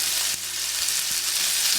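Rabbit pieces frying hard in a hot pan give a loud, steady sizzle that runs the whole time, with a few soft knocks underneath.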